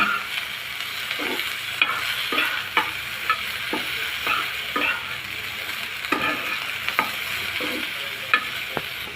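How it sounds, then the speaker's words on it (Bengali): Cauliflower pieces frying in hot oil in a pan for a mashed bharta, a continuous bright sizzle with regular scraping and tapping of a spatula stirring, no one talking. "ফুলকপিটা একটু ভেজে নেব"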